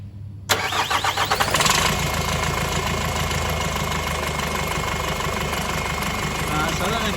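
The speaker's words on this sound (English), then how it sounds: "So we'll check it again now with the engine running." A Nissan X-Trail engine, which has a fault of no power on acceleration and no boost, starts abruptly and then runs at a steady idle. The rough mid-pitched drone is loud and close and continues throughout, with a faint high tone above it.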